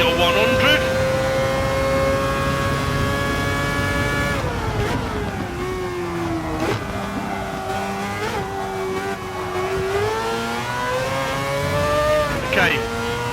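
A rally car engine in a racing video game holds a loud, steady high whine, then drops in pitch as it brakes for a corner before rising and dipping with the revs.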